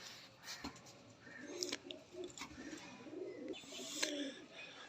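A male pigeon held in the hand gives soft, repeated throaty coos, faint and close, with light rustling and a few sharp clicks between them.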